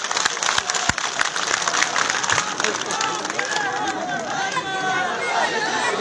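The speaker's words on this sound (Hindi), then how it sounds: "जोरदार तालियों के साथ इनका अभिनंदन स्वागत करें।" At an outdoor BJP political rally in Dharampur, Mandi, the crowd gives a burst of loud clapping that fades after a few seconds into crowd chatter and a voice speaking over the murmur.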